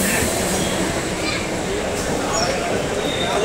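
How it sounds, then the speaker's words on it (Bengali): A passenger train pulling into a station platform, a loud continuous rumble and rolling roar with faint metallic squeaks, busy and close throughout with no clear speech. "ট্রেন এসে গেছে।"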